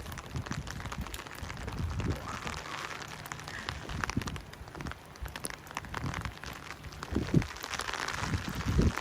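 Rain falls during a spring walk through Oslo, Norway, a soft, continuous patter of drops on surfaces with scattered sharper taps and crackles and some low rumbling background noise, with no talking.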